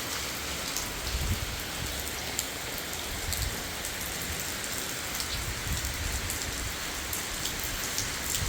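Heavy morning rain pours steadily over flooded rice fields, a dense continuous hiss of drops close by, with no voices.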